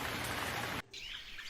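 Heavy cartoon rain with wind in a jungle roars as a dense, loud wash, cuts off abruptly partway through, then returns softer with faint bird-like chirps.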